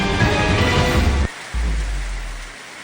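Heavy rain pours in a loud, dense rush, cut off abruptly, then a low rumbling wash of rain returns and slowly fades; set at a river in Negros Oriental during flooding.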